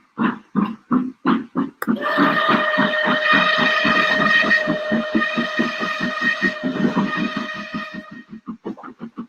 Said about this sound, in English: Oh no, we have a runaway passenger engine.